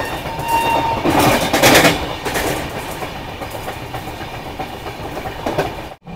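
A Konkan Railway train rumbles along the tracks with rhythmic clickety-clack from the wheels, loud and close from inside the moving carriage, swelling briefly before settling into a steady run.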